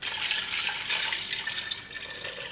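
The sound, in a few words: water poured into pressure cooker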